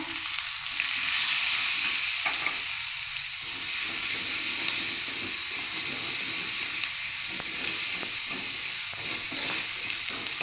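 Ginger and garlic fry in hot oil while preparing a Sri Lankan fried chicken curry, giving a steady broad sizzle with occasional stirring scrapes, close and continuous with no talking.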